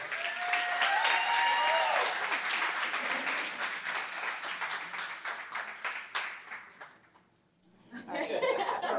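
Audience applause and cheering welcomes a speaker at a conference in Buffalo, dense clapping with a few whoops, fading briefly near the end before another burst of clapping and voices rises.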